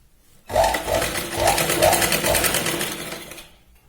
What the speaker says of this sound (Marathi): शोल्डरच्या पॉइंट पर्यंत आपण डबल शिलाई लावून घ्यायची इथे